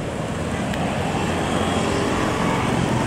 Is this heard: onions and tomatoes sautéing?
no